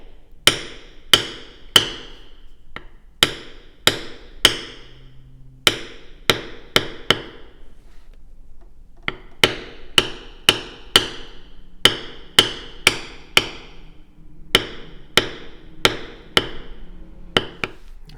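Mallet blows on a backgrounder stamp tooling a leather card holder around a flower design, sharp close taps in quick bursts of two to four strikes separated by short pauses, steady and alone.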